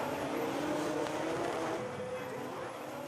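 BMW drift cars at a Drift Masters event, a loud sustained roar of high-revving engines blended with tire noise and crowd ambience, dense and continuous for a few seconds without clear speech.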